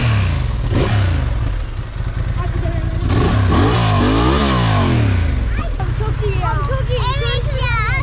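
Honda Hornet motorcycle engine revving hard close by, the throttle blipped repeatedly so the pitch climbs and falls in sweeps, with a steady idle rumble underneath and people talking over it.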